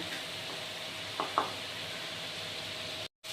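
Spice paste for aloo potol dalna fries steadily in a pan with a soft, even sizzle, broken by a couple of faint stirring taps.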